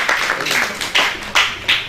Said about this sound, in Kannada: ಆ ಎಲ್ಲಾ ಮಹಾನ್ ಸಂಶೋಧಕರ ಸಲುವಾಗಿ ಒಂದು ಚಪ್ಪಾಳೆ ಬರ್ತಾನೆ